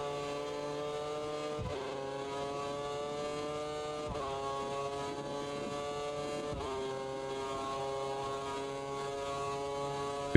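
A V8 Formula 1 car engine in a racing video game, Chinese Grand Prix, holds a high, steady whine that drops sharply at three evenly spaced gear changes and climbs back each time, at moderate level with no talk.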